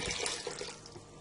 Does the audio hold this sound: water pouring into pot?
yes